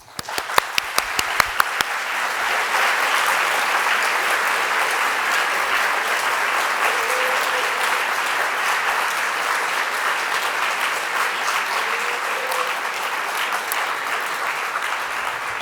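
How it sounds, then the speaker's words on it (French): A university lecture audience at a conference on Europe's democratic challenges starts with a few scattered claps, then swells into sustained, full applause from a large crowd that carries on evenly for over ten seconds. "Je crois qu'on peut les applaudir."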